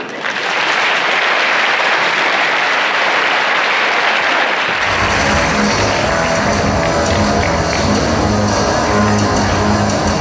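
Loud, dense crowd applause at a convention cosplay contest, continuing steadily as a booming music track cuts in halfway through and plays on beneath it.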